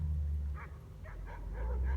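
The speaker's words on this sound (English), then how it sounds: "Here we have our friends coming up to bark at us" Dogs bark from behind a fence a short distance away, several quick yips and barks sounding moderately loud over a low background rumble.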